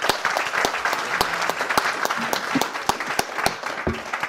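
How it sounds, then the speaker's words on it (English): Applause from a patent law and policy conference audience, sparse and close, with distinct individual hand claps cracking sharply over a softer continuous patter throughout. "let's have one last round of applause"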